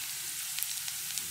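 A vegetable dish fries in a pan in a home kitchen, giving a steady bright sizzling hiss with a few tiny pops, even and close, with no one speaking.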